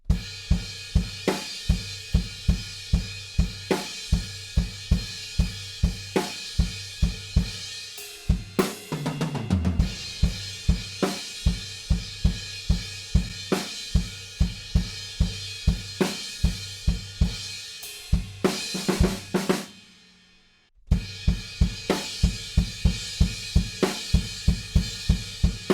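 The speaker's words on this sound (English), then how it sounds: "we're going to move up onto the crash cymbal and just play every kick following along with the riff" A drum kit plays a rock song, driving a steady kick and crash-cymbal beat with fills at the end of phrases and a brief pause near the end, loud and close.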